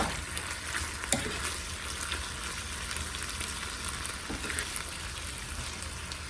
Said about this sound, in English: Okay, so I'm stirring everything in there once.